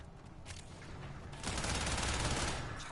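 Gunfire in the video game Warframe, a dense burst of rapid shots that swells louder halfway through and continues steadily to the end.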